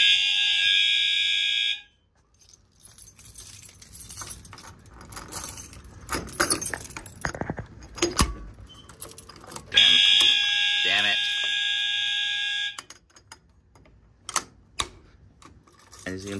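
A fire alarm sounds during a fire alarm system test at an FCI panel: loud continuous tones that stop abruptly, then return for a few seconds, with keys jangling, clicks and someone talking in between.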